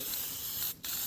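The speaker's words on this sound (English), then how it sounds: "So you just want to do a nice little light spray job." A spray paint can lays down a light coat in a steady, close, loud hiss that cuts out briefly near the end, then resumes.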